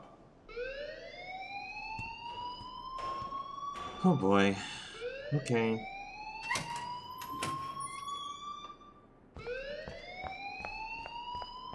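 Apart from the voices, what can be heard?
fire alarm ringing in Life Is Strange video game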